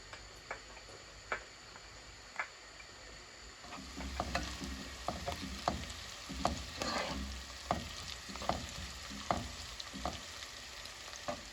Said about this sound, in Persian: پیازامون که کمی طلایی شدن در اینجا سیر رو بهش اضافه میکنم.